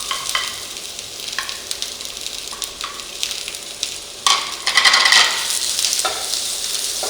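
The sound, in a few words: stir-frying squid and onion in a pan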